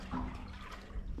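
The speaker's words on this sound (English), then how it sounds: "And that lets the water go on down the ditch." Irrigation water rushes steadily down a farm ditch toward a hay field during summer watering of corn and hay, a close, continuous broadband gush with no pauses over a brief moment.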